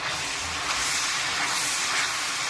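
Chopped ginger sizzles in hot oil in a pan while sautéing for dhaba-style white mash daal, a dense, steady hiss that stays loud and close throughout, with no talk.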